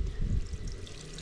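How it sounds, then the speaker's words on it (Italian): Coolant water gurgles and sloshes through the freshly filled cooling circuit of a Malossi 172 Zip SP scooter, a close, low churning flow with bubbling, heard alone. "Facciamo girare un pochino l'acqua."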